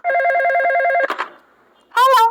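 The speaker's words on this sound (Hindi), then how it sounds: "फोन बज रहा है।" A cartoon telephone rings in a loud electronic trill, repeating steadily for about a second, then a brief clatter and near-silence before a second burst of ringing.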